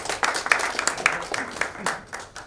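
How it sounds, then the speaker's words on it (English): Scattered clapping from participants at a Kolkata brands event, a loose burst of hand claps of uneven rhythm, with a voice speaking over it. "So keep practicing, give yourself a big applause."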